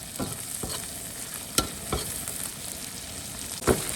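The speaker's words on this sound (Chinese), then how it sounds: "一起炒" Beans stir-fried in an oiled wok sizzle steadily, with repeated scraping strokes of the spatula and a few sharper knocks against the pan.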